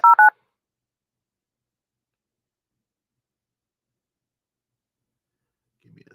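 Telephone keypad dialing tones sound as two quick loud beeps at the very start, followed by long silence and then a faint, brief murmur.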